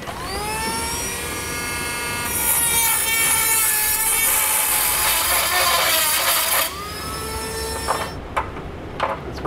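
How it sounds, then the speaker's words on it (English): A die grinder opens up a hole in a vehicle frame for a Draw-Tite Max-Frame trailer hitch receiver, giving a loud, steady high-pitched whine that rises in pitch midway, then drops off, ending in a few short bursts. "we're going to use just a kind of like a die grinder, and we'll open that up to allow that to pass through"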